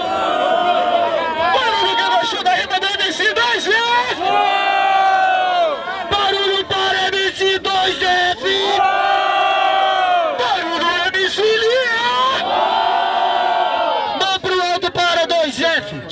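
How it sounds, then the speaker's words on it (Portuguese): A crowd at an outdoor rap battle in São Gonçalo cheers and shouts loudly and without a break, rising in long roaring swells with whistles and yells mixed in, while a voice calls out over the noise. "Barulho que gostou da rima da MC 2F!"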